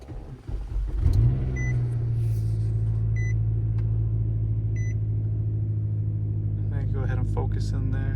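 A 2007 Nissan Altima with push-button start cranks briefly and fires up, then settles into a steady, close-up engine idle that continues throughout, with a few faint beeps and some rustling near the end.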